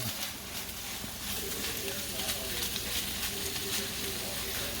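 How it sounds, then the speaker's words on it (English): Crab meat sizzles steadily in a hot pan for pumpkin crab soup, a continuous dense frying hiss at moderate level with faint scraping underneath. "We're gonna put the crab meat in. And we're gonna cook that up."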